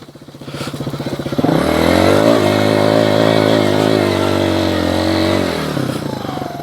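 A Skybike Liger 2 motorcycle engine idles with a rough, rapid putter, then revs up into a loud sustained roar that holds for several seconds before easing back down.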